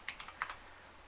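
Computer keyboard typing: a brief run of crisp, close key clicks, a few quick taps with small pauses between them, alone in a quiet room.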